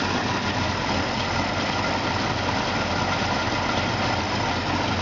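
A 1954 Chevy 3100 pickup fitted with a monojet carburetor idles steadily and close, a continuous low rumble with a breathy hiss of air being drawn through the carburetor, with no talk.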